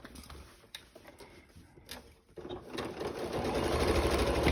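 A sewing machine stitching a fabric seam on a basket's pockets and exterior, starting with a few short stop-start bursts and then running in a steady, close, continuous whir.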